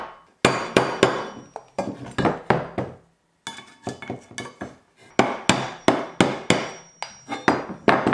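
Metal tools work a bicycle headset crown race loose with a knife and screwdriver, giving repeated sharp hammer-like taps and clinks in irregular bursts, close and fairly loud, with a short pause midway.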